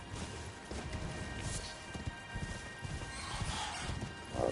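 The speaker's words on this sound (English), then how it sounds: "Should be a knight dude riding on a horse somewhere." Horse hooves clip-clop in the Elden Ring video game, a knight's mount trotting at a steady rhythm under a busy game ambience, fairly faint, with a heavier thud near the end.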